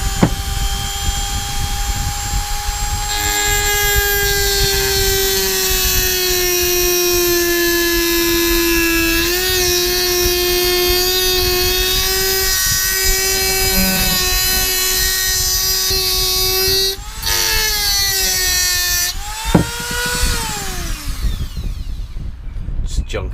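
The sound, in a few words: Dremel with diamond wheel cutting lift pump ring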